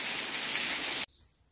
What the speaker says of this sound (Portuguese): Agora que começa, a chuva vem.